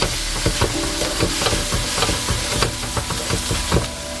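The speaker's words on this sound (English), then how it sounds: "Make sure to stir evenly." Ingredients for Manadonese spicy chicken sizzle steadily in a pan while a utensil stirs through them, scraping and clacking at an irregular pace over the constant hiss of frying.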